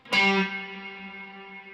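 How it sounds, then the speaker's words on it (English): A single plucked electric guitar chord rings out and fades slowly into a long, smooth reverb tail. "So I'll take out the delay so you can hear just the reverb. This is just the reverb."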